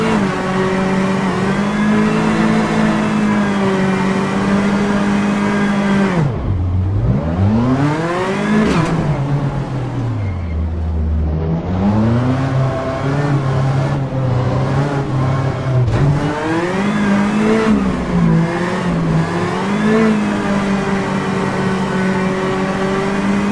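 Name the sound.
rally car engine accelerating in the video game Richard Burns Rally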